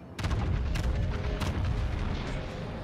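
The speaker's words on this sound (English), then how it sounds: "That is the Yamato gun sound" Main guns of the Yamato battleship in a video game fire as a few heavy booming blasts in quick succession, each followed by a long rumbling roar.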